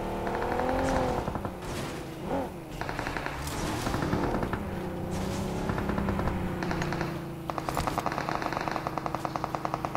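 Gunfight in the battle royale game BGMI on the Erangel map, with rapid bursts of automatic fire crackling over a steady engine drone, repeated shots clustered near the end.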